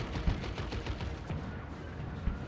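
Ranged gunfire from Ork flash kits in Dawn of War 2: Retribution, a steady low rumble of distant shots with a couple of sharper reports, set in busy real-time strategy battle noise.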